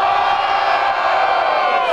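A rap battle crowd cheers and roars for a rapper, a loud, dense wall of shouting and whooping that stays close and sustained for about two seconds.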